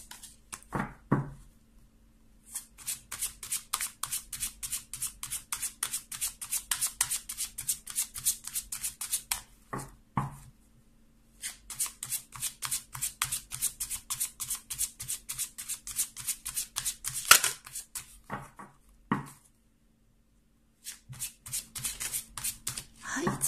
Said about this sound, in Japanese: あのタロットカードを出していきたいと思います